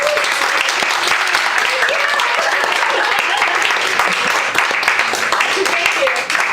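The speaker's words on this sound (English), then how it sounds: "I was actually clapping" Audience applause at a poetry reading, a dense, steady wash of many hands clapping close by that carries evenly through the whole stretch with no talk over it.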